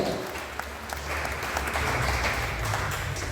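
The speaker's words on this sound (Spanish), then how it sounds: "Denle un aplauso a Jesús si puede en esta noche." A church congregation at a Spanish-language evening service breaks into sustained applause, a dense, even wash of many hands clapping at once that fills the room without any speech.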